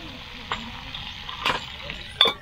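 Meat and vegetables cook in a pot at a car campsite, with a soft bubbling sizzle and a few sharp utensil scrapes and clinks against the pot, close and fairly quiet.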